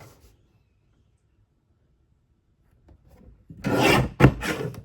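Paper trimmer slicing brown cardstock for a scrapbook page kit: after a quiet stretch, a loud close rasping blade pass, a short pause, then a second rasp, with no talking.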